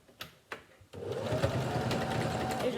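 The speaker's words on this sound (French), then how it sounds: "je fais ma dernière piqûre pour fermer le dernier côté du boudin" A sewing machine runs a final seam to close the side of a fabric face mask, starting after a couple of soft clicks and then whirring steadily and close up for about two seconds.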